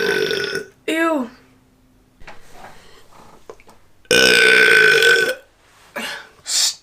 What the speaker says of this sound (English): Oh no, I feel a burp coming.